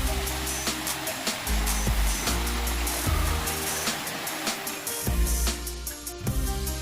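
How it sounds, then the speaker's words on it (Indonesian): Heavy water rushing down Sri Gethuk waterfall in Gunung Kidul, a loud continuous roar close by with deep rumbling, steady throughout, with a voice faintly present beneath. "wah, airnya melimpah guys dari atas, mantap"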